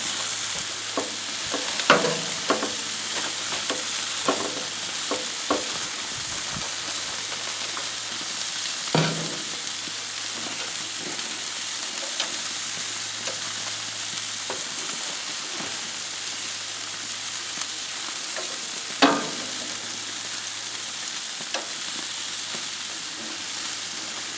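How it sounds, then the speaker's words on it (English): Asparagus sizzles steadily on a hot grill alongside pork steaks, a continuous close frying hiss broken by a few sharp pops and clicks. "Let's go ahead and throw our asparagus on back there in the back."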